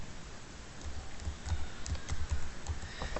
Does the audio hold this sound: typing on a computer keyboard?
yes